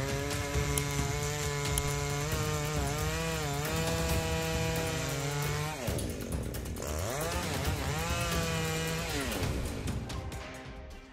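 A chainsaw roars continuously close by, its engine pitch dipping and rising as the blade bites into a heavy, ancient tree trunk.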